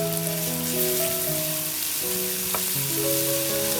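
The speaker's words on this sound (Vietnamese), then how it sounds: "Mình chuẩn bị một chiếc chảo rộng một chút và phi thơm số hành tím băm" Minced shallots sizzling in oil in a wide pan, a steady dense crackle and hiss throughout, with soft background music tones and no speech.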